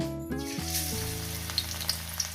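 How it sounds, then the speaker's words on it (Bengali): Onion and banana pakora dropped one by one into hot oil, a steady bubbling sizzle with low tonal hum underneath and a few sharp pops and spatters toward the end. "তেলটা আমার গরম হয়ে গেছে এবার এক এক করে আমি এটা দিয়ে দেব"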